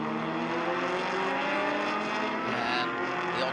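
Ferrari, Porsche and Shelby race cars racing on a track, engines snarling loudly and continuously as several cars roar past together in a dense, overlapping wall of revving.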